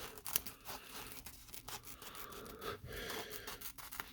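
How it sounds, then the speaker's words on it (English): Leatherman Raptor rescue shears snip through a napkin with quiet, close crisp cuts and paper rustle in a short irregular series. "will basically cut a napkin, so you can cut anything thick or thin with these"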